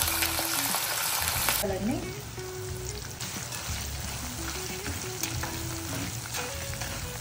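Green chillies, dried red chillies and curry leaves frying in hot oil for a tempering, a steady close sizzle with stirring scrapes throughout, and a brief spoken word near the start.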